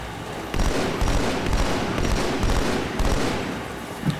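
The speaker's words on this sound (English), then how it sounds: "I kind of want to get him with the battle rifle" Battle rifle fire in Halo 2 on the Outskirts level, a steady run of rapid, loud gunshots that keeps going for about three and a half seconds with no voices over it.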